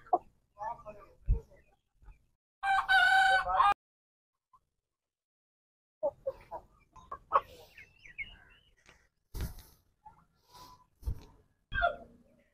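Roosters and other fowl at a village poultry pen give a loud, harmonic crow in one burst, with scattered clucks and calls around it and people talking nearby.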